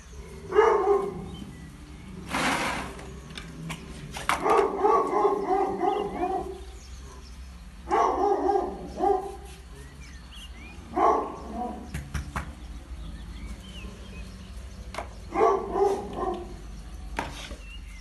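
Hunt hounds at the kennels bark and howl in repeated bursts, a chorus rising and falling several times over a steady low background hum, fairly close and loud.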